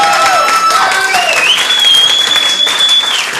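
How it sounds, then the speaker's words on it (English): Audience applause for the wait staff at the Ice House Annex comedy club in Pasadena, a steady, loud burst of clapping from a crowd that lasts throughout, with a host talking over it. "How about a big round of applause for our wait staff"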